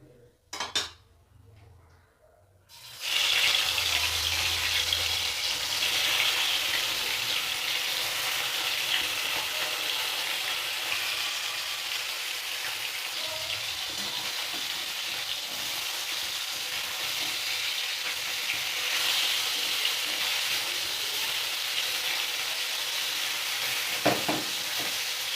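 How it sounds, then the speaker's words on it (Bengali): Rui fish frying in hot oil for a Bengali-style curry with yam, a steady loud sizzle that runs almost unbroken after a short quiet opening, with occasional clinks of a utensil against the pan. "মাছ ভেজে নেব।"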